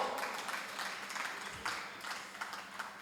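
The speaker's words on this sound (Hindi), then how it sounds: "ये ताली किस लिए बजाई थी?" An audience applauding at a religious discourse on Jainism, a soft, steady wash of many hands clapping that stays even and moderately faint throughout, with no voices over it.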